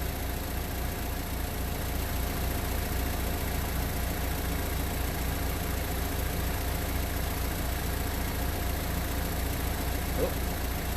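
Car engine left idling as it takes in fluid and burps air, giving a steady, even, unbroken hum at moderate level throughout.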